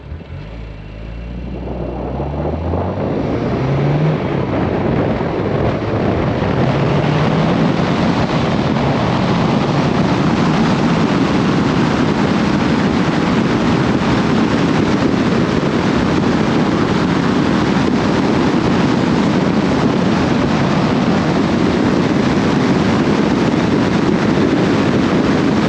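Car driving down the road as heard from an action camera mounted on the roof, a steady loud roar of wind and road noise that builds over the first few seconds and then holds, with no talking.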